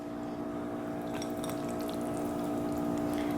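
Water running and gurgling into a pot of stuffed grape leaves filled with meat and rice, a steady close pour that holds at an even level the whole time.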